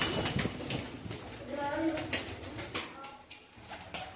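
Malwai Punjabi pigeons coo in a big loft, soft repeated cooing calls close by, mixed with faint rustling and light taps, while someone talks over them.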